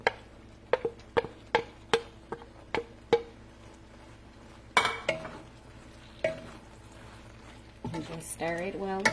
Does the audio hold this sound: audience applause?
no